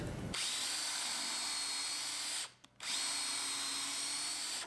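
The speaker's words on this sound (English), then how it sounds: "you can drill through these first 2 pieces" A power drill whirs steadily at high speed drilling a pilot hole through wood, cutting out briefly for a moment before spinning up again, close and loud with no talking.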